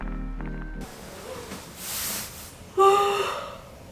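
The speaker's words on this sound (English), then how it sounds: "and what a yawn" A long breathy yawn up close, rising and fading, ending in a brief tonal sigh.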